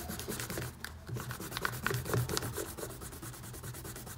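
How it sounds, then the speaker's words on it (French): Pencil construction lines being rubbed out with an eraser on a drawing of a Spider-Man emoji face, giving soft, continuous close-up rubbing strokes in a quiet room with no talking. "Gommer nos traits de construction."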